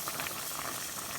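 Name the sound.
sausage sizzling in a pan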